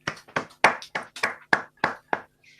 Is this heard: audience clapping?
yes